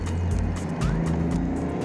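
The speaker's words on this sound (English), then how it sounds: "let you feel the immense acceleration of this car" A high-torque car accelerates hard from inside the cabin, its engine note rising steadily with a loud, continuous roar and faint shifts in pitch over a couple of seconds, no voices.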